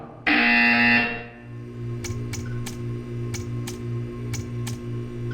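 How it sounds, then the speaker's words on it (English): A loud harsh electronic buzzer in Portal 2 sounds for about a second, then fades into a low hum with a series of light clicks. "When you hear the buzzer, stare at the art."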